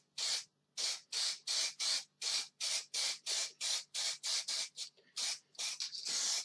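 A spray can lays a light sealer coat on a freshly cut wooden sign in a rapid run of about a dozen short, hissing bursts, close and loud, with brief gaps between them.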